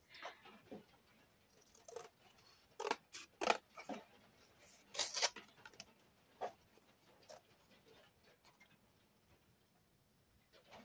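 Paper being cut again with scissors while a souvenir album is made, a series of short, crisp snips and clicks in uneven bursts, close and fairly quiet with no talking.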